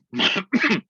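Two harsh coughs close to the microphone, one after the other with a brief pause, loud and throaty.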